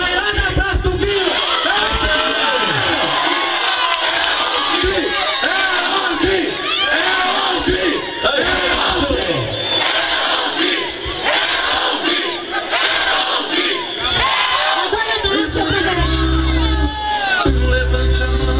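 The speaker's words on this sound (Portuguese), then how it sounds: "mas peço pra todo mundo gritar. É pra todo mundo gritar" A large crowd shouts and cheers continuously at a neighborhood political campaign rally, a dense, loud roar of voices that never lets up.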